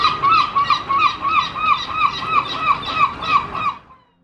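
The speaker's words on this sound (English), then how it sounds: "it is their long call that is most recognisable" A herring gull gives its long call: a rapid series of about a dozen loud, laughing yelps in steady rhythm, close and clear, ending abruptly.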